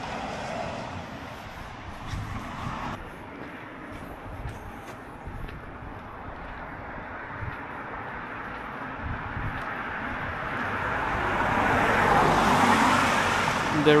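Road traffic at night on a dark, sparsely lit street, a continuous rumble of passing vehicles that swells louder toward the end as one draws near.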